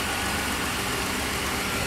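A 2006 Ford Escape's dual overhead cam Duratec V6 idles at a junkyard, giving a steady, even engine hum throughout with no talking.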